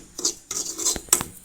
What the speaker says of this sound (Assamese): ঘিউ ঢালি পিনে চুজিখিনি ভাজি আছোঁ 3 চামুচকৈ।